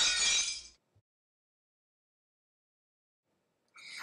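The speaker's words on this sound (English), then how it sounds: "an opera singer breaks glass with her voice" Glass breaks and shatters in a single sharp burst that rings briefly and cuts off, followed by near silence, then another bright crash of glass at the very end.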